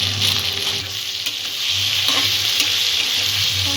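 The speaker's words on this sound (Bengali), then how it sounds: "মশলাগুলো দিয়ে কিছুক্ষণ কষে নেব" Spices for a rohu fish curry, including coriander and chili powder, sizzle steadily in hot oil in a pan, a continuous close frying hiss with occasional stirring scrapes throughout.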